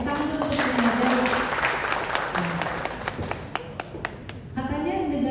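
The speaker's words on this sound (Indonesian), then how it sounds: "Tepuk tangan untuk Sukmajaya." Audience clapping at a district legal outreach gathering in Sukmajaya, Depok, a short burst of scattered claps under and around a voice speaking over a sound system.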